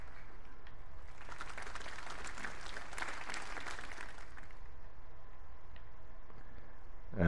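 Crowd applause in the snooker video game World Snooker 19, a steady burst of clapping swelling and then fading after a few seconds, moderately loud, with no talk over it.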